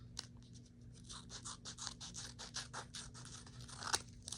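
Scissors snip through folded paper while cutting a 3D snowflake, a quick run of soft crisp cuts and rustles, quiet and close with no talk.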